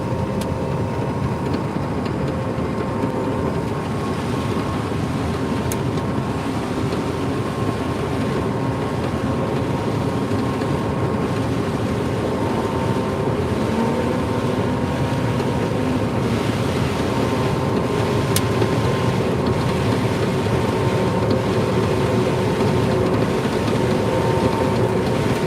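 Harvester head working a field in northern Illinois, a continuous heavy mechanical drone with a steady rattle throughout, recorded from the machine, with a few sharp clicks and no talking.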